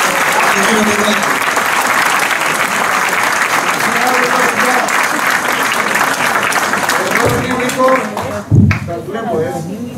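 Audience at a Pancretan election candidate presentation in Crete applauds loudly and continuously for several seconds, with cheers and voices mixed in, tapering off near the end as a person speaks.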